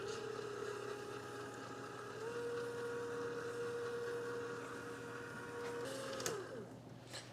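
A kitchen mixer blending sugar and molasses into brown sugar hums steadily at low volume, with a sustained motor tone that shifts pitch slightly, then a brief clatter near the end.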